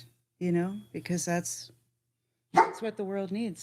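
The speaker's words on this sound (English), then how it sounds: "And that's our dog." A pet dog barks at low level in the background, partly under a person talking nearby.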